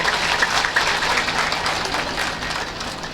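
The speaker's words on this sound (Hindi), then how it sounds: "एक बार जोरदार तालियां" A crowd at a live religious discourse gathering claps in a dense, sustained burst of applause, loud and close throughout, with no speech over it.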